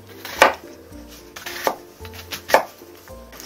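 A knife chops potatoes into large chunks on a board for a chive potato pancake. Three sharp, close cuts land about a second apart, each thudding down onto the board in a quiet kitchen with no talk.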